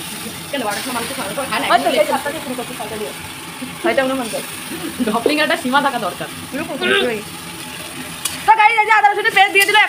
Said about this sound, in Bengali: এখন তো পেঁয়াজ মনে হচ্ছে পুড়িয়ে যাচ্ছে দাঁড়াও একটু আমি নাড়ি দিচ্ছি